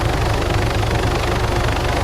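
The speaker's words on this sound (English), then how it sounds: "then your chopper can actually handle touching down while going forward, which is pretty nice in an MH9" An MH-9 helicopter in Arma III runs with a steady, loud low rotor thrum and engine drone as it touches down while moving forward, with a regular beating pulse and no voices.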